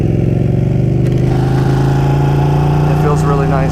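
Ducati 959 Panigale engine running at low speed, a steady close mid-pitched drone with a slight pitch rise, while a voice talks over it.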